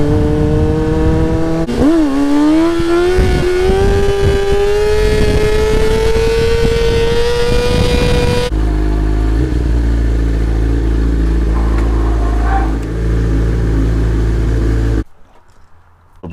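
A Yamaha R6 sport bike revs hard for a wheelie, its engine note rising steadily over several seconds before dropping to a lower rumble with steady wind noise, then cutting off abruptly near the end.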